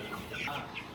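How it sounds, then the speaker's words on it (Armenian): Young chicks on a farm plot give a soft, steady run of clucking and peeping calls, close by and alone, lasting only about a second. "Այս է ճուտիկներն են։"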